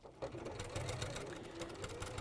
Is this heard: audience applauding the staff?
no